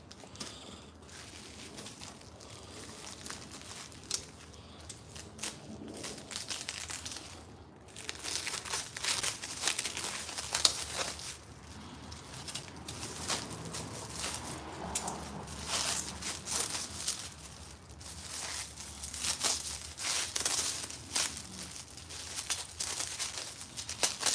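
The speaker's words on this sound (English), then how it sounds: "So let's unwrap these." Cement mixer blades for a Kushlan KPRO 350MP wheelbarrow mixer being unwrapped, giving long stretches of soft crinkling and rustling packaging with occasional small clicks, fairly quiet and close, with no voices.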